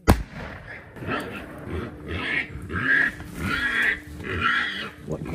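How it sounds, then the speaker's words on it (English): A wounded wild boar, shot during a hunting drive, squeals repeatedly in loud, drawn-out cries at a steady rhythm from nearby brush, with no talk over it. "that thing was squealing like crazy over there"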